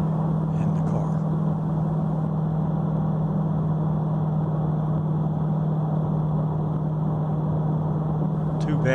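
A car fitted with a TH2004R transmission in place of a TH350 cruises at about 60 mph, its engine near 2900 RPM, making a steady, loud cabin drone with a strong constant tonal hum throughout.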